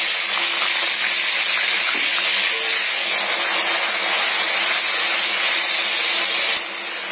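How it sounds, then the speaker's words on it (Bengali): Chopped onion sizzling in hot oil with browned sugar and cardamom for a fennel meat curry, giving a loud, steady, close hiss that barely changes throughout. "এবার এতে আমি কুচি করে রাখা পেঁয়াজটা দিয়ে দিলাম"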